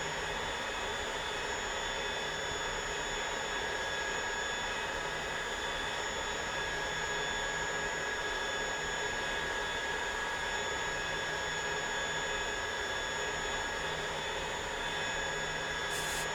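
Steady, constant jet engine whine of an L-39 Albatross trainer jet in the DCS World flight simulator, a broadband roar with high tonal hum held evenly throughout, no voices.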